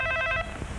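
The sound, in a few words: telephone ringing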